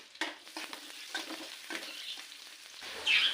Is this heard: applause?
no